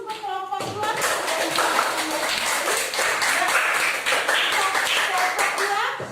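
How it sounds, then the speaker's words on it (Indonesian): A classroom of students applauds a presenting group together: dense, steady clapping from many hands fills the room, close and loud, with a few voices mixed in. "kita berikan aplaus untuk kelompok 2"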